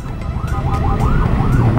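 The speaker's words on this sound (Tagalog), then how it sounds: "may naririnig tayong ambulansya" An ambulance siren wails in repeated rising and falling sweeps as it passes on the road, steady and fairly loud over a low rumble of traffic and vehicle noise.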